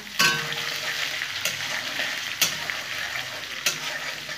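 Brinjal frying in a pan for a vegetarian eggplant dish crackles with a constant close sizzle, and a few sharp spatula knocks come at irregular moments. No one speaks.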